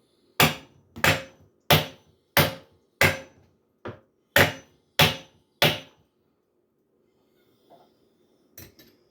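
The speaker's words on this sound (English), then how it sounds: "Give it a couple more whacks just to make sure." Hammer whacks seat a drill press chuck onto its taper during assembly of a Vevor drill press: eight sharp, evenly spaced metallic blows, one lighter tap among them, then a pause and a final faint knock.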